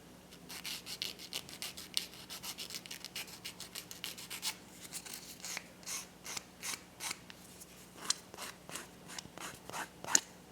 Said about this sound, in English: Kind of give it this motion as you're sanding it.